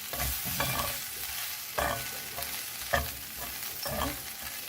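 Okra fry with red chili powder being stirred in a hot pan: a steady sizzle punctuated by about four distinct scraping strokes of a spoon, up close and without speech.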